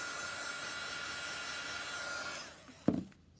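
A hair dryer blowing steadily on paint, a loud constant whoosh that cuts off near the end and is followed by a short knock.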